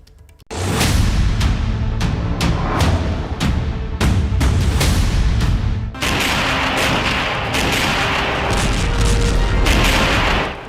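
A war scene: deep booming bomb blasts and artillery fire, loud and close, with rapid overlapping shots and explosions rolling on continuously with sharp bursts throughout.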